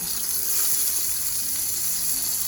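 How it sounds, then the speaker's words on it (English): Seasoned jerk shrimp frying in a pan, Jamaican style, giving a steady, close, bright sizzle that holds even throughout with faint low clatter underneath and no talk. "seasoned shrimp into the frying pan and allow them to cook until they're based on your liking"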